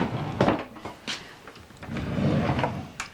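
A desk drawer in a home coloring station, stocked with tins of acrylic paints and a box of crayons, slides and bumps shut with a few quick wooden knocks and rattles at close range.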